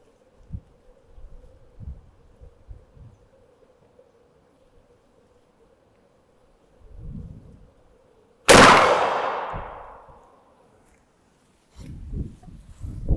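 A shotgun firing a rifled slug lets off one sharp, loud blast that rolls off in a long fading echo outdoors, framed by quiet shuffling and handling noises.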